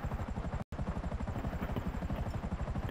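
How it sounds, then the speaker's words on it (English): A helicopter in the video game GTA V makes a continuous rapid rotor thump with a low, steady chop throughout, broken by a momentary dropout of sound. "I'm gonna drive your helicopter."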